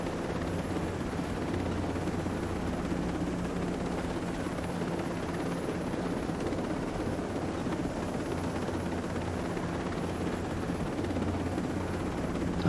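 Steady rotor drone of a helicopter in flight in the video game Ghost Recon Breakpoint, a constant dense roar with no breaks throughout.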